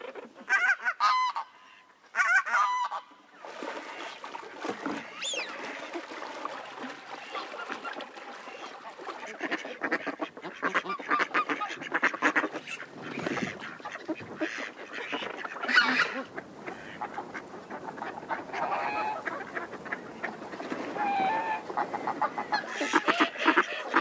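Loud honking and quacking from a flock of waterfowl, dense and continuous, with a few sharper calls standing out.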